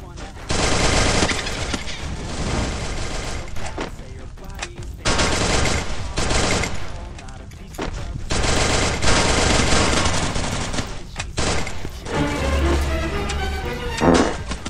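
Video game gunfire in a Portuguese-language shooter session: several long bursts of rapid automatic fire, loud and close, separated by short pauses, with faint clicks and a low thud near the end.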